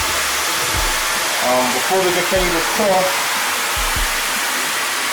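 Water running steadily in a bathroom of an abandoned house, a continuous broadband hiss filling the background while someone talks over it.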